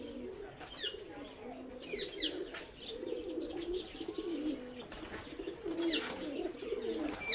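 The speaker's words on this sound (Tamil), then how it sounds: "கிளி சவுண்டுக்கு ஆப்போசிட்டாக புறாவும் இங்கே நிறையா அட்ராசிட்டிஸ் பண்ணிகிட்ருக்கு." Pigeons in an aviary cage give repeated low, throaty coos that roll on continuously, with scattered sharper chirps and faint rustling around them; the birds sound close and fill the whole stretch.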